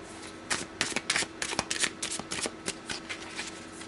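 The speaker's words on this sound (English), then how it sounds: "So let me shuffle now the cards" Tarot cards being shuffled by hand up close, a rapid run of crisp riffling flutters and slaps in uneven bursts over a few seconds, fairly loud with no talking.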